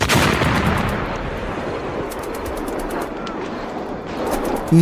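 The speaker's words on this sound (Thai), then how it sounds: "ต่อจากนั้นก็มีเสียงระเบิดติดตามมาดังสนั่นวันไหวกึกก้องไปทั่วบริเวณ" A loud, sustained rumble of explosions and gunfire from enemy 75 mm artillery shells hitting a base fills the scene, dense and chaotic with continuous blasts.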